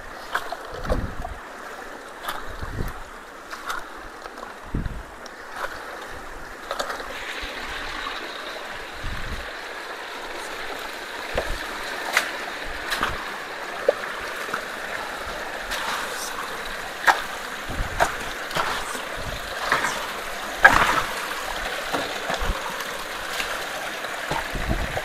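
Water flows and gurgles steadily through a culvert clogged by beavers, a continuous soft wash outdoors with occasional thumps and splashes scattered throughout and no talk.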